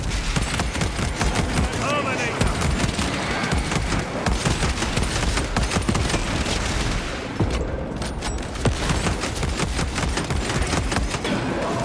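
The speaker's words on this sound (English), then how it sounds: "Heretic bolter fire" Heretic bolter fire in a Warhammer 40K battle: rapid, sustained bursts of heavy automatic shots crackling nonstop near and loud, with a brief lull midway before the barrage resumes.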